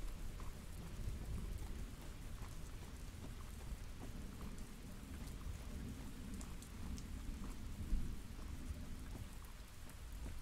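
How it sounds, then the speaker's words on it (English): Thunderstorm with steady rain in a horror video game, a continuous rough wash of rainfall with low rumbling thunder rolling underneath throughout, fairly quiet overall with a slight swell near the end. "the thunderstorm's real rough"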